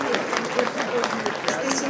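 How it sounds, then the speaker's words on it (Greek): Audience applauding at a Greek village celebration in Grizano: dense, steady clapping throughout with crowd noise and some speech mixed in. "χειροκρότημα"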